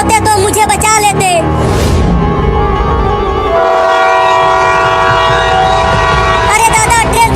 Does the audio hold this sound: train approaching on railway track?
yes